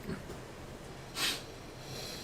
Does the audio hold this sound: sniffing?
yes